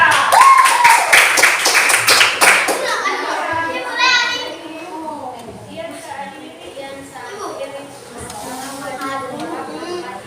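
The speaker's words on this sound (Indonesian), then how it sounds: "Berikan aplaus untuk kelompok pisang." Children in a classroom give a group a burst of rapid, loud clapping that lasts about three seconds and then fades into the lively chatter and voices of kids talking over each other.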